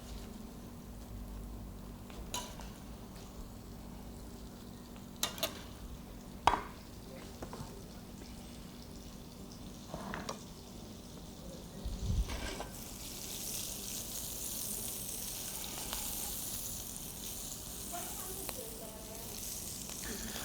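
Food fries in oil and butter on high heat with a continuous low sizzle, broken by scattered knocks and clatters of cookware, while a voice talks over it now and then.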